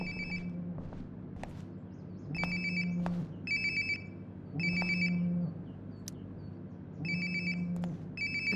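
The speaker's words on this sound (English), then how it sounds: "Sounds like my phone is definitely nearby." Mobile phone ringing in the video game Life Is Strange: Before the Storm, a repeating electronic ringtone in regular bursts with short pauses between them, over a low steady background hum, clear and close.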